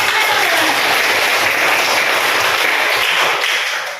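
A group of children claps together in a classroom, a dense burst of applause that holds steady for several seconds before trailing off, with a faint voice beneath.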